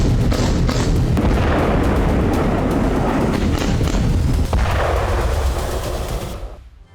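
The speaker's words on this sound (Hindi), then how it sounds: "जिस तरह की बमबारी, हवाई बमबारी, रॉकेट और मिसाइल के हमले नॉर्थ गाजा में किए गए थे" Heavy bombardment in North Gaza, with rockets and missile strikes producing a dense, continuous rumble of booms and blasts layered with rapid cracking gunfire, loud throughout before fading out at the end.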